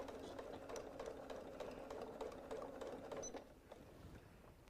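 A sewing machine backstitches over a seam on a sun hat with a quiet, even mechanical hum and rapid ticking, slightly dropping in level toward the end.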